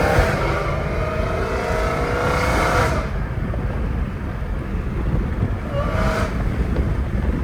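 A loud, steady engine drone fills a Dodge Challenger Hellcat Redeye's cabin with continuous titanium-exhaust roar and road noise, swelling briefly at a couple of points.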